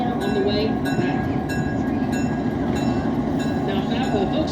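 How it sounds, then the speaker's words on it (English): A train's cars and locomotive rumble in a steady low roar as the engine reverses to couple onto the cars, loud and continuous with voices faintly mixed in. "It will then reverse into our train."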